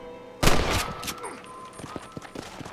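Gunfire in the Western video game Red Dead Redemption: a loud burst of shots at the start, then scattered fainter pops and bangs over a quieter game background.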